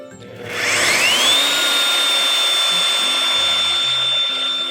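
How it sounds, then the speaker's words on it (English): A power drill runs steadily while driving a screw foundation into the ground, its motor whine rising at the start and then holding a sustained, loud, even tone for several seconds, close by. "It goes a little slower, but you prevent damaging the drill potentially."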